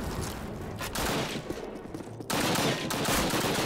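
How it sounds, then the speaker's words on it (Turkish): Gunfire from the World War II shooter Call of Duty 1 on a level with a Tiger tank, with dense, continuous bursts of shots and explosions throughout, getting louder after a brief dip. "bir yerden silah sesi geliyor diyorum ben de ya"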